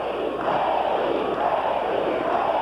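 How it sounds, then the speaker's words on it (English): A basketball crowd at a 1998 ABL Finals game between the Long Beach Stingrays and Columbus Quest chants a player's name, a loud, dense roar of massed voices that holds steady without a break. "the crowd is chanting, Katie, Katie"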